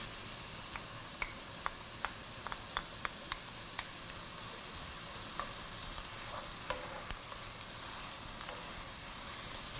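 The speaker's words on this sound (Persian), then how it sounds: "حالا یک کمی که سرخ شد فلفلش هم بهش قاطی میکنم، هالپینیو." Jalapeño pepper frying in a pan while being stirred with a utensil, a steady close sizzle broken by a series of sharp scraping clicks, with no talking, while making Iranian spinach and yogurt dip.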